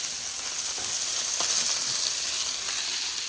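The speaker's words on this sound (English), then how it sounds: "You hear that sizzle?" Onions and bell peppers sizzle and crackle steadily in a hot pan, a continuous close frying hiss with a few soft stirring clicks.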